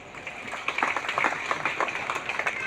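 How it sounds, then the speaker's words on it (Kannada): Audience clapping at a talk on the message of the Sharanas for a strong society, a steady patter of hands from a moderately close crowd that swells slightly midway and carries on evenly throughout. "ಚಪ್ಪಾಳೆ ಹೊಡೆದ್ರಲ್ಲ"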